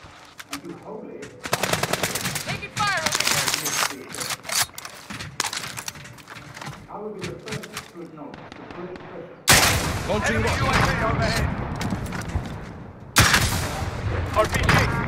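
Video game gunfire: dense bursts of automatic weapon fire crackle close and loud, with sustained rapid volleys that intensify partway through and continue to the end, over low background game sounds.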